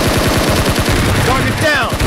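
Rapid automatic gunfire in PUBG Mobile, a fast loud burst of evenly spaced shots running the whole moment, with game voice announcements layered over it.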